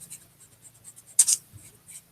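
Pencil marks are rubbed off tracing paper with an eraser: a soft rhythmic scratching of repeated strokes, faint and close, with one louder rustle midway.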